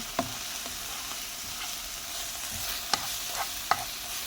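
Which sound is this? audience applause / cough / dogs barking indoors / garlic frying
garlic frying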